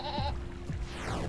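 A goat in the video game There Is No Game lets out one short, close bleat at the very start, then it fades into low background game sound.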